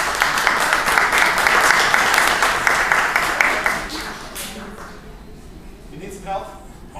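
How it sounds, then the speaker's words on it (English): An audience breaks into loud, dense applause for a stage assistant named Lily, holding steady for several seconds before fading away into scattered sounds and a quieter room. "So ladies and gentlemen, I want a big round of applause for my assistant Lily."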